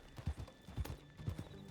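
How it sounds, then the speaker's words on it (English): A horse's hooves clip-clop in the Red Dead Redemption 2 video game, a quick run of soft, evenly paced hoof knocks at low volume with no talking over them. "O cavalo."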